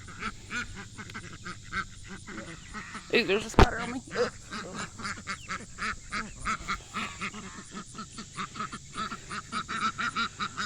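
Farm ducks quack repeatedly in quick, steady bursts close by, with a louder flurry partway through, while a person speaks briefly over them.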